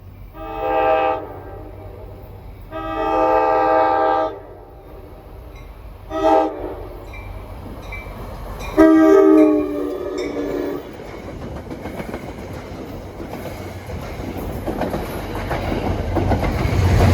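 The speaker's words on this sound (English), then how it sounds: "304, this should be train 1120 from Suffern to Hoboken." An NJ Transit Main Line train from Suffern to Hoboken, with a GP40FH2 locomotive trailing, sounds its horn in four loud blasts: two long, one short, then one long. A rising rumble of the passing train follows.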